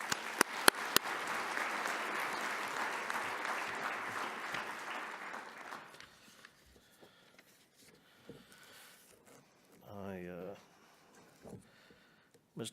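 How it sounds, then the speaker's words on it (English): Audience applause at a government travel industry conference fills the first six seconds with dense, steady clapping that then stops abruptly, leaving quiet room noise and a brief voice near the end. "So please, round of applause again for Mr. Booth."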